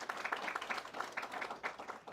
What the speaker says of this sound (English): Let's give a round of applause for everyone who presented tonight.